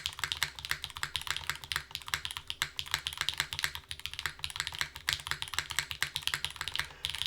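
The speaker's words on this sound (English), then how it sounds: "Get a better little typing feel here." Rapid, continuous typing on a Void65 top-mount mechanical keyboard, close and clicky with a dense, uneven rhythm of keystrokes and no speech.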